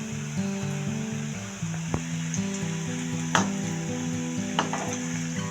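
Potato cheese balls fry in oil over a medium flame, giving a steady, even sizzle with a few sharp pops, set against soft background music.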